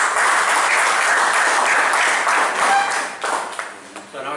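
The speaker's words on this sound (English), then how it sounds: "he deserves a big round of applause for all these" A Toastmasters meeting audience claps warmly, a full, close patter of many hands that holds steady for about three seconds and then thins into scattered claps as it dies away.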